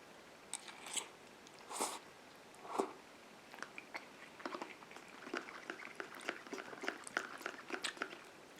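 Someone chews Mac & Cheese Pot Noodle mixed with ketchup, close and quiet, with soft irregular crunchy bites and wet mouth sounds spread across the stretch.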